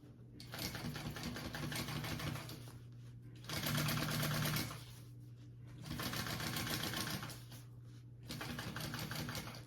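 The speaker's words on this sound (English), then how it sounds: "we are going to top stitch along this contrast piece" A sewing machine runs in four close, steady bursts of rapid mechanical clatter with brief pauses between them, top stitching along a contrast piece on a crossbody bag.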